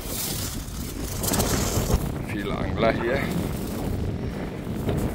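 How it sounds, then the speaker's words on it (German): Gusty wind buffets the microphone outdoors by the sea, a rough rumbling roar under a man's brief speech. "Sehr windig."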